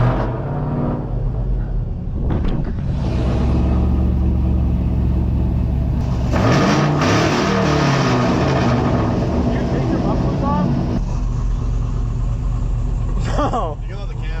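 A race car engine at Cedar Lake Speedway rumbles loudly and close, rising and falling in revs over a sustained idle, with people talking over it.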